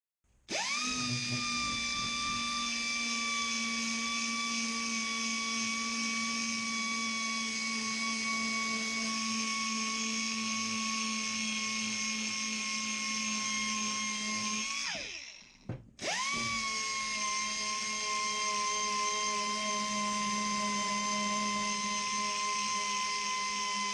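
A Silverline 50mm pneumatic orbital sander runs on a piece of steel with a loud, steady high-pitched whine, briefly stopping around the middle before spinning back up and continuing.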